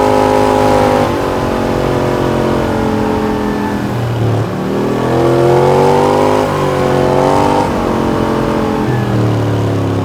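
A big motorcycle engine roars continuously at high revs, its pitch rising and falling as the throttle opens and eases, loud and close.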